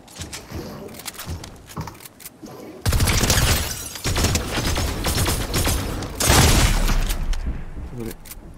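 Gunfire from a video game gun rattles in loud, sustained automatic bursts with clattering impacts, broken by short gaps, while a voice talks quietly at the start.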